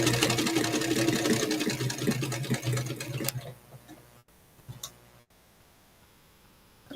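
Sewing machine stitching at a fast, even clatter for about three seconds, close and clear, then it stops and only a few faint clicks and handling sounds remain.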